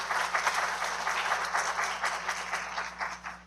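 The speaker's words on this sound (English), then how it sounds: "Let's give them a round of applause." An audience at a county commission meeting applauding, a steady patter of many hands clapping at moderate volume, tapering slightly toward the end.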